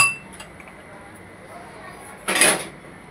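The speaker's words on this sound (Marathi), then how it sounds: "झाकण ठेवूया आता त्याच्यावरती." A metal lid settles onto a cooking pot of porridge with a single short clink near the end, after a few seconds of quiet kitchen room tone.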